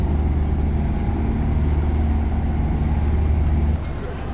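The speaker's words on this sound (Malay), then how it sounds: "kapal pengangkutan kenderaan ada Roro sedang memanaskan enjin, bersiap sedia untuk berlepas ke Langkawi" A RoRo vehicle ferry warms up its engine at the terminal before departing for Langkawi, giving a steady, loud, low diesel drone with a humming tone that runs continuously and drops slightly in level near the end.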